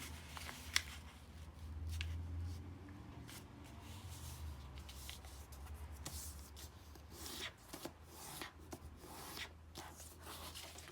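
Paper is creased and folded for an origami rose, giving soft, close rubbing and brushing with intermittent crisp swipes as edges are pressed flat.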